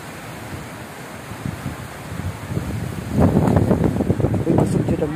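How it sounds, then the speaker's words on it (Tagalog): Strong typhoon wind roars across the microphone, building into a louder gusty rush in the second half, with faint rustling underneath. "Uy, masok dyan ang hangin."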